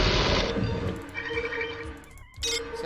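A Cortex Reaver spider mech in the video game System Shock produces dense, loud mechanical noise with metallic whirring tones throughout, briefly dropping away near the end before surging back.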